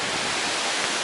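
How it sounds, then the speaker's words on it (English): Waterfalls rushing through the Coed Aber Artro woodland make a steady, close broadband roar with no breaks over a brief moment. "The waterfalls,"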